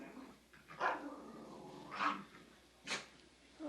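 A dog barks three times at a steady pace, each bark loud and fairly close over a low background hum, with no one talking.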